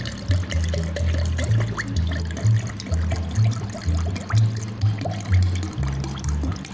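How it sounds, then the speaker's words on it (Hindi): Water being poured into lassi in a home kitchen, a repeated gurgling pour in short bursts with a low rhythmic glugging, close and fairly loud, without any voices. "पानी डाल लूँगी"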